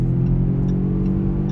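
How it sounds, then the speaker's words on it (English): A Jaguar F-PACE with a higher-performance turbocharged four-cylinder engine accelerates hard onto a freeway, giving a steady, loud, low engine drone heard from inside the cabin, with no voices. "this is just a higher performance version of the turbocharged 4-cylinder engine"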